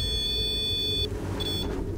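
A REM pod ghost-hunting device gives off a steady high electronic tone that cuts out midway, then briefly returns faintly, over a low rumbling background in a quiet room.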